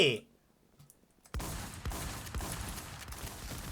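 Bursts of rapid gunfire and explosions erupt in a clan battle in an online shooting video game, after a near-silent start, with dense overlapping shots continuing steadily beside excited voices.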